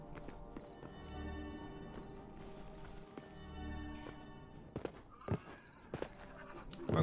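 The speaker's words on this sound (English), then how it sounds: "You got undead horses in here too?" Undead horses in a video game clop along in a steady hoof rhythm, with a few sharper hoof hits and clatters near the end over a droning musical background.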